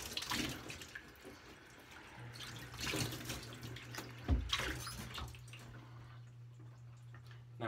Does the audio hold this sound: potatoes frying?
no